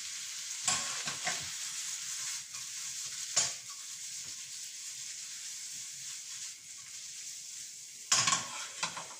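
Meat and onions fry in a pan over turned-up gas, a quiet steady sizzle broken by a few sharp clinks and scrapes of a utensil, heard close with no voices.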